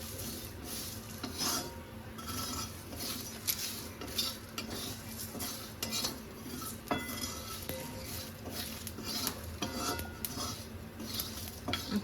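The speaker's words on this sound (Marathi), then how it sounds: "लवंग आणि काळी मिरी हे सगळं मी टाकून घेतलं. हे मस्त परतवून घ्यायचं." Cloves, black pepper, cardamom and other whole spices sizzle in a pan while a spoon stirs them, with steady metallic scraping and clinking close by and no talk.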